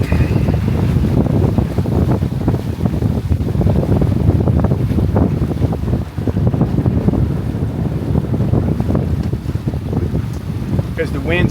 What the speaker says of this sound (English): Really good winds.